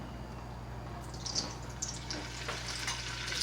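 A mix of oil and a little butter heats in a pan, crackling in a steady soft sizzle with scattered spits and pops close by, and nobody speaks.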